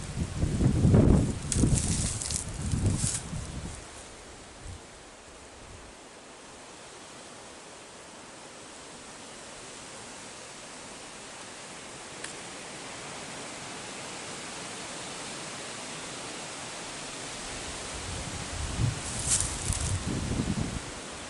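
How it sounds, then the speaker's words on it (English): Wind gusts through tree foliage in a steady broadband rush, swelling louder at the start and again near the end, with a quieter stretch in between. "And it's windy up here today,"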